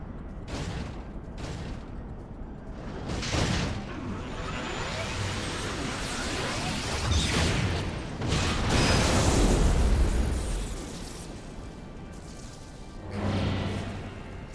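Cannon fire and explosions in the video game Final Fantasy XIV roar as dense, loud, broadband bursts and crashes, surging heavily around the middle and rising again near the end, with whooshing debris and no talk.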